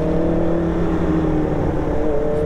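Steady engine drone from a Honda CBR 650 sports bike, a continuous loud hum with stable low tones throughout, close by, with no speech.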